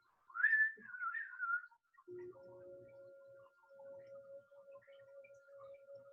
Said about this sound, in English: Feel free to whistle.